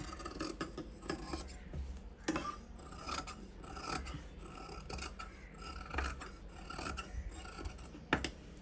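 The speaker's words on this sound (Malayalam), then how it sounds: "ഇനി ഇതും കൂടെ ഒന്ന് കട്ട് ചെയ്യാം" Scissors rasp and snip through saree blouse fabric at the back neck, a steady scraping texture broken by a few sharper cuts, close and alone with no talk.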